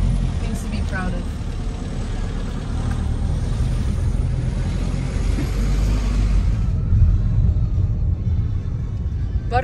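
A car with a manual stick shift is driven through Tunisia, producing a steady, loud low rumble of engine and road noise that fills the whole stretch without pause.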